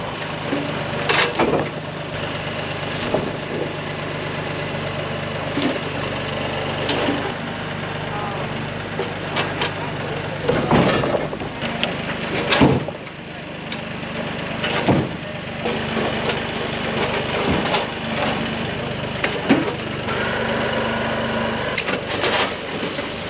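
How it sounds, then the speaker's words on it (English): A tractor engine runs steadily outdoors on a neighbor's property, a continuous low idle-like drone with occasional knocks and clunks over it, heard alone without talk. "the tractor's performing far better than I think Peter estimated"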